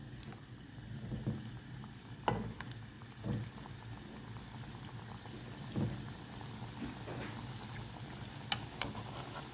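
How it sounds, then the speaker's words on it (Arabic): Pieces of yeast-risen dough for a Ramadan msemen-style flatbread fry in a hot pan of oil, giving a steady soft bubbling sizzle with a few sharper pops and crackles, close and moderately quiet throughout. "نروح نحط المقله تاعي تسخن ونجي نبدا نقلي فيها"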